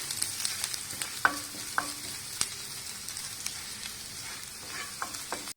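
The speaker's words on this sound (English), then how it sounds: "Now we need to stir these ingredients together." Spoon stirring chopped ginger, garlic and other ingredients in a hot pan for restaurant-style crispy Gobi Manchurian, giving a steady low sizzle broken by a few sharp scraping clicks and taps, close and moderately quiet with no talking.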